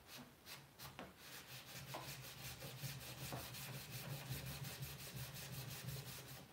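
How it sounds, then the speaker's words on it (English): Wax is buffed by hand into the grey-waxed surface of a faux wood nightstand, making a soft, steady rhythmic rubbing with quick repeated strokes, close up and quiet, no voices. "The more you buff, the more comes off"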